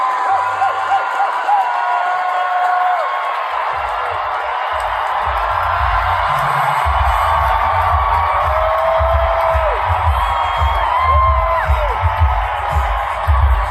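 A large rally crowd for Alexandria Ocasio-Cortez and Bernie Sanders cheers and whoops loudly and continuously, with scattered shouts and rhythmic chanting-like pulses rising over the steady roar.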